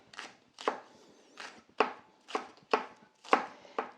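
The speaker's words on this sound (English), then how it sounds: "And the next thing is going to be our onions. And just finely chop those up." Knife finely chopping onions on a cutting board for tabbouleh, with seven or eight crisp close strokes at an even, unhurried rhythm and brief quiet gaps between them.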